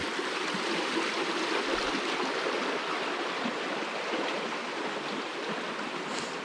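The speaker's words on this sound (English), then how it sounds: "this is Trout Creek" Trout Creek flows steadily beside a campground, a constant close rushing and babbling with no voices.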